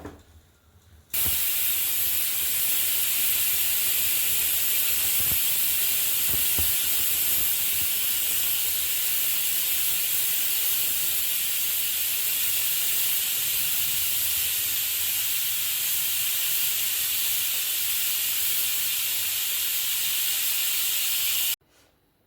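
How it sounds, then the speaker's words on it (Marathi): A pressure cooker holding pav bhaji vegetables with a little water vents steam in one long, loud, steady hiss that runs for about twenty seconds before cutting off abruptly, with no talking. "आता आपण 3 ते 4 शिट्ट्या देऊन टाकू।"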